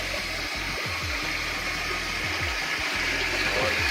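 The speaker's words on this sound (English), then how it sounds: "Okay, let's go ahead and flush the toilet and see if it works." A toilet flushing right after its flush valve was replaced, a loud steady rush of draining water with low gurgling pulses running through the whole stretch, close by with no talk.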